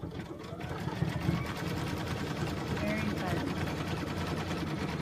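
Sewing machine running steadily while stitching basting lines through layered chenille fabric, a continuous close rapid whirring and clatter at moderate level.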